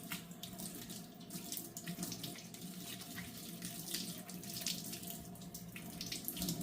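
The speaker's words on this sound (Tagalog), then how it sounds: "Rinse with water." Hands are rinsed under a running tap, a steady soft gush of water with faint splashing throughout. It is fairly quiet and close, with no voices.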